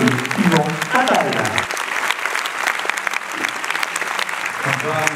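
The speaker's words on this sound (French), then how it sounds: "faire une ovation à Madame Charlotte Pérez-Boulot et Yvan Attal" A cinema audience at a film premiere applauds Charlotte Gainsbourg and Yvan Attal, sustained dense clapping filling the room, with a voice speaking briefly at the start and near the end.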